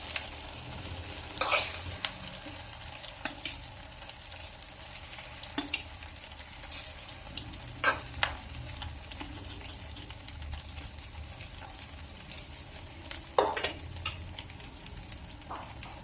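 Vegetables sautéing in a pan with a ginisa mix: a soft, steady sizzle under intermittent scraping and clinking stirs of a utensil against the pan, close and unaccompanied by talk.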